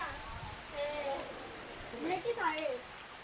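Steady rain falls at a farmhouse garden in Khairwadi, Panvel, in July. It makes a soft, even hiss in the background while voices talk over it.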